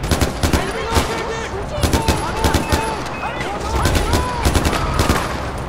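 Rapid gunfire from the video game Far Cry 4 during a defensive firefight, with close, loud bursts of shots cracking in quick irregular volleys through the whole stretch, with other game sounds underneath.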